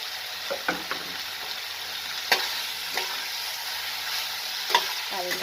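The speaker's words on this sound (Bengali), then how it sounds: "তারপরে আমি ফুলকপি ভাজাগুলো দিয়ে দিলাম" Fried cauliflower pieces stirred in a sizzling pan, a constant close hiss broken by a series of sharp spatula scrapes and clanks at irregular intervals.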